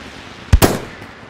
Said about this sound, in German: Ich hau eine Granate rauf.